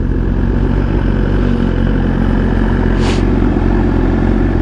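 A motorcycle engine runs steadily and loud up close, its low throbbing idle continuing without a break, with one brief higher hiss partway through and no speech.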